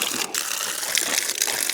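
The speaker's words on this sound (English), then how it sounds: "Some brown water coming out, but now she's running good." Water gushes forcefully from an outdoor hose outlet at a camp water system in a loud, steady rush with brief sputters of air, close up and with no talking.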